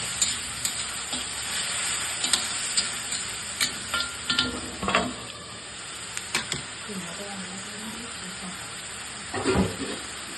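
Brinjal curry with onion stirred and frying in a pan, soft sizzling with intermittent scraping stir strokes, close and moderate, with some background noise.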